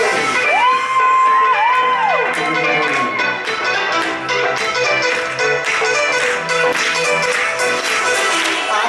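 A cinema audience of children shouts, whoops and cheers loudly at a premiere, the crowd noise swelling in bursts after a voice sings a held note.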